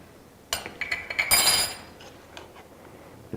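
A spoon clinks against a cooking pot while red chili powder is stirred into a cumin-spiced mixture: a quick run of close metallic taps and scraping over about a second, then quieter scattered clicks.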